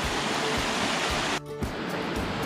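Water rushes in a loud, continuous broadband roar, like a close waterfall or fast stream, with a brief dip partway through, near the Oconaluftee Visitor Center.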